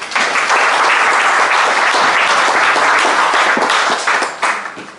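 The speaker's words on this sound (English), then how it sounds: "Give Anne a big round of applause." A room full of people at an Irish Heart Foundation fundraising event breaks into a big round of applause, loud and sustained dense clapping that thins out near the end.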